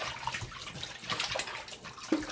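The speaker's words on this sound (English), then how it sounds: "we're going to wash them and rinse them" Oxtails, already soaked in vinegar and water, are rinsed under a running kitchen tap: a steady, close splashing flow of water with soft sloshes and drips.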